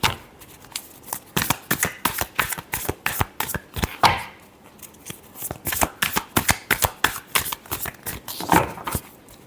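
Tarot cards being shuffled by hand at close range, a long run of quick riffling flutters and soft slaps in an uneven rhythm with no voice over them.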